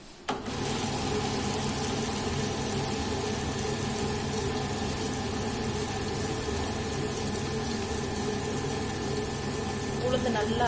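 Wet grinder grinding soaked urad dal with a little water for idli batter, a steady close mechanical drone with a faint whine that starts abruptly and then runs evenly.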